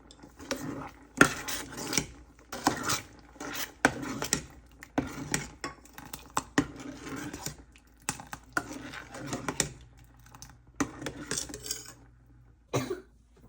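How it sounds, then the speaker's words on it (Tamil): Sugar is stirred into a coconut pudding mixture in a pan with a spoon, making irregular light knocks and scrapes against the pan in short bursts, close and fairly quiet, without speech. "இப்போ எடுத்து வச்ச சீனியை நீங்கள் அதுக்கு போட்டு நல்லா கிண்டுங்கோ."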